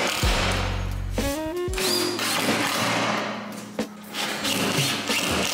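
A power drill drives screws into MDF boards that are temporarily fastened in place while a coffee bar is built: a close motor whine ramps up and down in pitch over several bursts, broken by a sharp knock.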